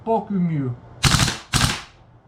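A VFC XM177E2 airsoft rifle fires two short bursts of rapid shots close by, each a dense rattling volley, following a stretch of speech at the start.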